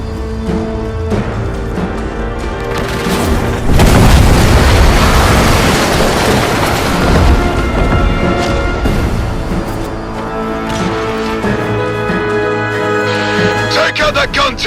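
Heavy booming explosions from gunfire pound a ship in the video game Warframe, loud and sustained, with rumbling blasts layered over game music and background noise.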